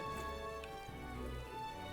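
Steady rain falls in the video game Metaphor: ReFantazio, an even hiss of drops running through the whole stretch with a soft tonal background underneath.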